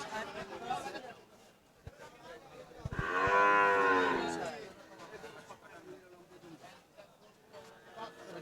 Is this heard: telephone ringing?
no